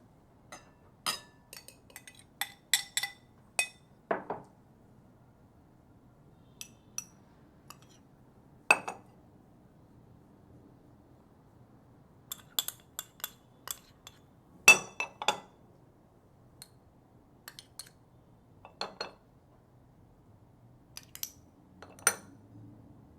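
A utensil clinks sharply against a bowl while chocolate drink powder, vanilla pudding mix and oil are stirred together, in scattered bursts of close taps over a quiet background.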